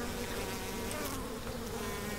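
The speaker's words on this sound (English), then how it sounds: "you can open an active beehive without wearing a mask" Small honey bees swarm around an open, active beehive in the Omani mountains, producing a dense, loud, unbroken buzz close by with no talking.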